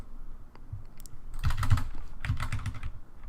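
Fast typing on a computer keyboard during game coding, with rapid clustered key clicks in bursts and short pauses, close and fairly loud with no talking.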